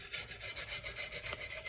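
A chef's knife is drawn along a coarse 220 grit whetstone with light pressure, giving a steady run of close, rhythmic gritty rasping strokes, about eight in under two seconds, with no voices over them.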